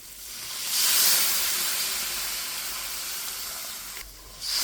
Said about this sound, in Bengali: আর এখন আমি এখানে দিয়ে দেবো গরম জল।